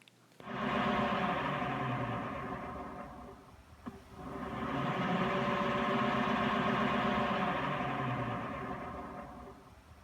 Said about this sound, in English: This electric outboard motor conversion would be absolutely ideal for any type of pontoon or fishing boat